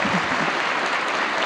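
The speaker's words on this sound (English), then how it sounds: "All right, another round of applause for Evan." Keynote audience at a corporate tech conference breaks into steady, dense applause, a full crowd clapping continuously and fairly loud throughout the short burst.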